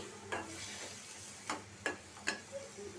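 Chopped tomato sautéing with onion in a pan for a prawn bhuna, with a faint background sizzle and four distinct scraping stirs spaced across a few seconds, close and fairly quiet.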